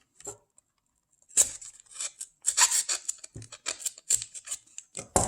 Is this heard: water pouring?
no